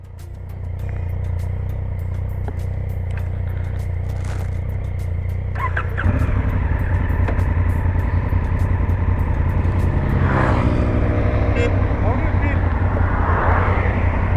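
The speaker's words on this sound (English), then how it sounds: "let me try Africa Twin with new Karu Street tires" A Honda Africa Twin motorcycle on new Karu Street tires rumbles at idle, then the engine note rises as it pulls away, with voices talking over the steady drone.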